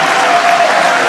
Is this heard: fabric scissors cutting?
no